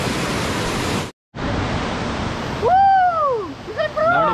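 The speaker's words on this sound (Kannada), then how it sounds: "ಡೌನ್ ನೋಡಿ ಹೇಗಿದೆ ಅಂತ ನೀರು ಬೀಳೋದು." Bandaji Falls roars steadily as water drops some two hundred feet, a dense rushing wash broken by a brief cut, then continuing beneath high warbling whistle-like tones near the end.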